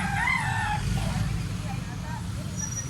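A stag rooster crows once near the start, loud and close, then fades into background clucks and chatter. Outdoors among people and other fowl, with a vehicle rumbling faintly underneath.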